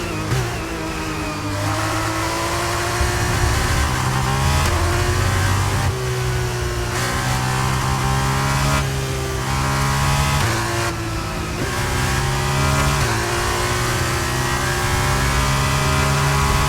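An F1 race car engine in a racing video game revs hard and steadily, with repeated rising pitch sweeps and short drops between gear changes, loud and continuous throughout.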